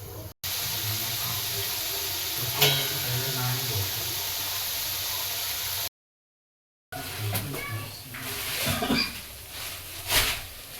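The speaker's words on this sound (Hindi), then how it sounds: "गरम हो गया है तेल, तो चलिए फिर इसे फ्राई करते हैं।" Homemade fries drop into hot oil and sizzle with a steady, bright hiss, broken by a short gap before bubbling crackle resumes with louder pops.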